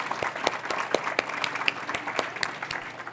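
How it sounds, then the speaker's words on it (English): Audience applause at an awards event, a steady patter of many hands clapping fairly close, filling the clip at moderate loudness with no talk over it. "round of applause"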